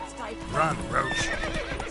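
Roach the horse in The Witcher 3 gives a short whinny over hoofbeats, with a voice speaking over the sounds.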